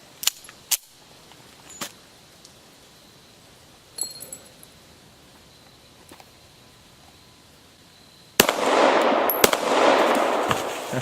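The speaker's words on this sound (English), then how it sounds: "Let's shoot a little bit more here, since we have some magazines loaded up" CZ 75 pistol firing outdoors, a few sharp isolated shots spaced seconds apart with faint metallic clinks, then a louder burst of noisy rushing sound toward the end.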